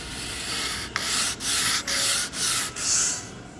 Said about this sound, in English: So you would just wrap your sandpaper around it, right?